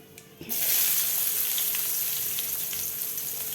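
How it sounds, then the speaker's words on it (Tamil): Onions sizzle loudly in hot oil with mustard seeds, urad and chana dal, curry leaves and dried red chilies, a steady close frying hiss that bursts in after a brief quiet start, for coconut rice. "வெங்காயம் நல்லா வணங்கட்டும்"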